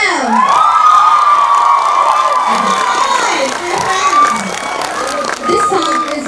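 A large crowd at a Northeast India fusion carnival cheers and shouts for a Meghalaya performing team, a dense, continuous roar of voices with high whoops rising above it.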